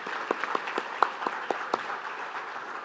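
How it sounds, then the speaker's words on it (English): Scattered applause at a Making Strides of Long Island breast cancer kickoff event, a soft, moderately distant clatter of claps with a few sharper individual claps standing out near the front, continuing steadily throughout. "I think that in itself is worth a round of applause"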